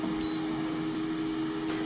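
Instant Pot Duo Crisp air fryer running during cooking, a steady close-up hum with a constant tonal drone and a brief faint high beep near the start.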